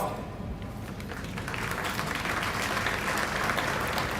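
Steady applause from the crowd at a military academy passing out parade honoring award winners, starting moderate and swelling louder as the clapping continues, with no voices over it.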